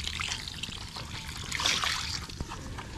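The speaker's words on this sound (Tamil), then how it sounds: "முதல் பாலை விடுவோம்." Coconut milk from the first pressing trickles and pours into a pan for Jaffna-style thothal, a steady close liquid stream with a brief louder surge midway.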